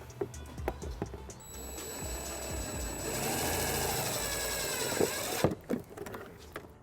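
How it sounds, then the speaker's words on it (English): A self-tapping screw is driven with a 1/4-inch socket to ground a trailer wiring harness on a 2017 Dodge Grand Caravan, heard as a close, steady powered whir lasting a couple of seconds amid light handling noises. "We're going to use the provided self-tapping screw and a 1/4-inch socket."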